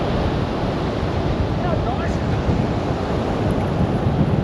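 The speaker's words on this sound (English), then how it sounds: "Oh, the waves coming in." Ocean waves roll in on a shore near Esperance, a steady broad wash of surf mixed with wind buffeting the microphone, continuous and fairly close.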